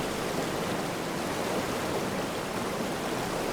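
Steady broadband rush of a waterfall in The Witcher 3: Hearts of Stone, a continuous even roar with no pauses, no talk over it.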